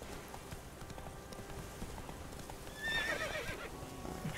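A horse in The Witcher 3 gives a single high, shaky whinny partway through, rising over a quiet, steady background with faint clatter.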